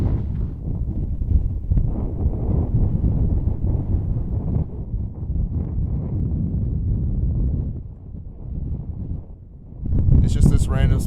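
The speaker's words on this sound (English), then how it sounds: "It's like super gusty, and there's obviously no respite from the wind." Strong, gusty desert wind buffets the microphone in a steady low roar, easing briefly and surging again near the end, where a voice cuts in.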